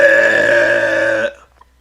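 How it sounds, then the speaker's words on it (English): A long, loud, sustained burp lasting over a second, cutting off abruptly into near silence, heard alone without talk. "I'll be jealous when somebody get a good burp in like that"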